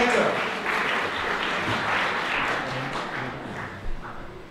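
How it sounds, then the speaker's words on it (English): School audience at a children's day program applauding the principal, with loud clapping that thins gradually, murmuring voices underneath, and a brief thump near the end. "A round of applause, everybody,"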